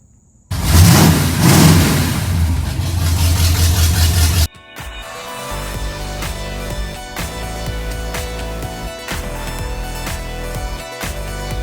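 Engine of a 1979 Chevrolet C10 pickup truck running, a loud close rev that cuts off sharply, then a steady rumbling idle with a faint rhythmic tick.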